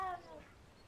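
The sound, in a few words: cat meowing in video game Hogwarts Legacy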